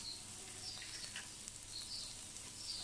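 Butter frying in a pan with a steady, faint sizzle and hiss, soft crackles rising now and then, no voices over it.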